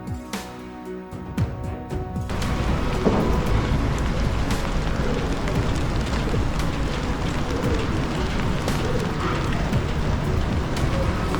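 Steady rain pours onto a street in Serbia, a dense continuous hiss of drops that builds after the first couple of seconds and stays loud and even throughout, with no voices.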